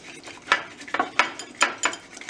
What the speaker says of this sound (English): whisk and whisk it up